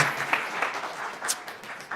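Applause from a church or seminar audience honoring the creator, a dense steady patter of many hands clapping at moderate distance, holding level for the whole stretch with no one speaking.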